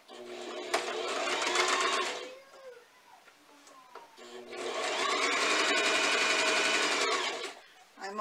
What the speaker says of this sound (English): I'm only sewing a 1/4 inch seam.